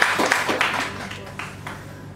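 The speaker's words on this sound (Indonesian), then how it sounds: "Tepuk tangan dong untuk kita semua." Audience claps at a tourism services communication forum in a hall, a short burst of scattered hand claps that thins out and fades over about two seconds, moderately loud at first and then softer.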